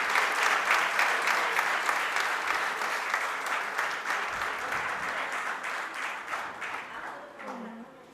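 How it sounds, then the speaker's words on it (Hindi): An audience in a hall breaks into sustained applause at a Mahesh Navami program, a dense steady wash of clapping that holds for several seconds and then slowly thins out at the end. "मैं चाहूँगा कि पूरा सदन उनके लिए एक बार ताली बजावे।"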